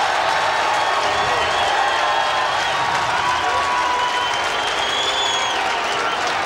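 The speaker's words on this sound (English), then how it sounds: "and listen to the crowd." Loud, continuous crowd roar and cheering in the stands during a 1989 NCAA men's lacrosse game between Syracuse and UMass, a dense wash of noise with a few whistles rising above it.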